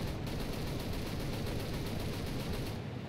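Sustained automatic gunfire from a War Thunder battle, a rapid continuous stream of loud shots lasting a few seconds with no pauses, heard alone without talk.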